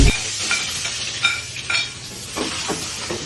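Onions frying in hot oil give a loud, close crackling sizzle, with stirring and light utensil scrapes scattered through it and no talking.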